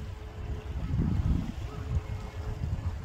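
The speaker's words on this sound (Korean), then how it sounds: "파도소리도 잔잔하고 좋습니다." Gentle sea waves wash near Cheonsa Bridge in Sinan, a soft low rumbling swell with a brief surge in the middle, faint and steady outdoors with light wind and no speech.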